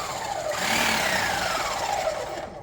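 An Enerpac 25-ton H-frame press with a freshly rebuilt cylinder runs through its 14-inch stroke with a loud, steady mechanical whine. The pitch sweeps smoothly across the stroke and then trails off near the end.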